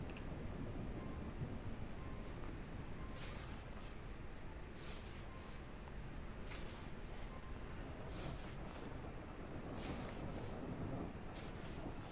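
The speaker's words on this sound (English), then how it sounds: "that definitely sounds like a crazy storm going on" A crazy storm rages in Snow Plowing Simulator: steady rain or wind noise throughout, with several soft rumbling thunder bursts rolling in at intervals, distant and muted.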